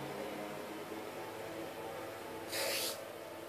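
Hairspray gives one short, bright hiss of a spray burst onto hair, brief and close against a quiet background.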